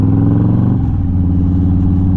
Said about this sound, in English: the baffles out of the exhaust right now, and I mean it's loud